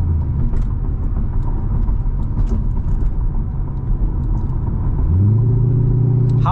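A loud, deep engine rumble from a modified 2008 Chevrolet Corvette runs throughout, swelling into a stronger low growl near the end, with no talking.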